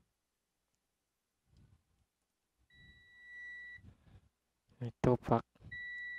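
A multimeter's continuity buzzer beeps steadily in two short, near tones while testing a ZOTAC GeForce GTX 1060 AMP! Edition graphics card for a shorted 12-volt power rail, with someone speaking between and over the beeps.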